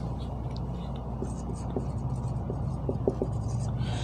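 Pen or chalk writing out DNA purine structures, adenine and guanine: soft, steady scratching strokes under a low background hum, with faint intermittent tapping.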